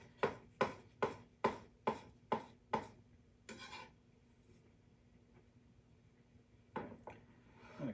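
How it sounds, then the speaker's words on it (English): A knife chops fresh basil on a cutting board in a home kitchen, seven quick, evenly spaced crisp taps, then a pause with faint rustling, and two more taps near the end. "Also going to cut up my basil a little bit."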